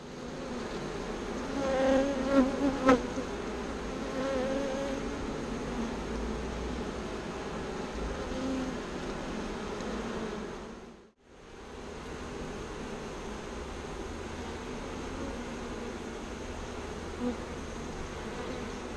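Bees buzzing steadily inside a birdhouse after being shaken in, a dense close hum that runs nearly unbroken, with a brief dip in the middle.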